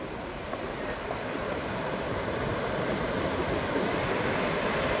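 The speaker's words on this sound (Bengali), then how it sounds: "যথেষ্ট ঢেউয়ের আনাগোনা এবং যথেষ্ট ঢেউয়ের, সেই উঁচু উঁচু বড় বড় ঢেউ।" Sea waves wash continuously at Henry Island beach, a dense, steady roar of surf with no distinct breaks, mixed with some wind.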